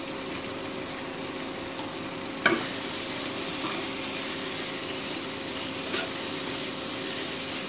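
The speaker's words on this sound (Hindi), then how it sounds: "फिर इसके बाद इसमें ये भाजी थोड़ी थोड़ी करके डाल देंगे।" Kardi bhaji greens fry in a pan with a continuous sizzle and a low hum, broken by a sharp scrape or clank as they are stirred.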